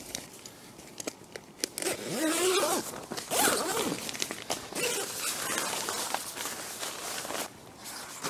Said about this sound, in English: We'll just join the zip up again.